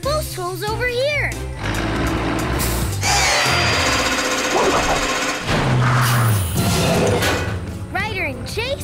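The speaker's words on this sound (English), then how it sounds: "Zuma, drill both holes over here." Power drill boring holes in a cartoon landing-pad rebuild, a loud whirring drill burst in the middle and again later, mixed with music, sound effects and character voices talking throughout.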